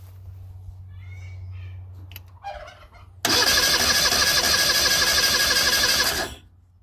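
Honda N600 sedan left outdoors for 16 years starting up, a low hum and some faint creaks before the engine catches abruptly and runs loud and steady for about three seconds, then cuts off.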